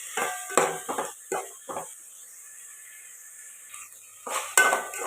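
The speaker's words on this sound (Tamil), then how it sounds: "வதக்கலாம்" Chopped tomatoes sautéed in a pan for country chicken curry, a few close metallic clinks and scrapes of a spoon against the pan, then a quiet pause before more stirring knocks, no talking.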